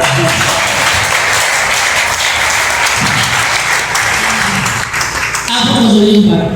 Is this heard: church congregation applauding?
yes